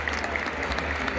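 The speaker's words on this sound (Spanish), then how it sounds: "Aplausos" Stadium crowd at La Bombonera applauding a former Argentina national team coach, a short, steady wash of distant clapping over a low rumble of crowd noise.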